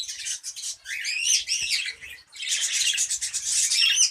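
A male Lutino Personata lovebird gives two close, loud bursts of rapid shrill chirps and squawks, separated by a short pause.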